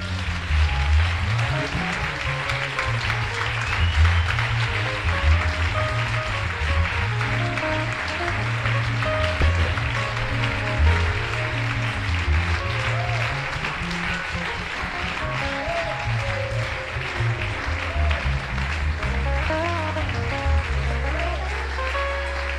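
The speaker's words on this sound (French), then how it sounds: "Est-ce qu'on peut l'acclamer?" A church congregation claps and cheers continuously, a dense, sustained wash of applause over rhythmic music with a heavy bass line playing underneath.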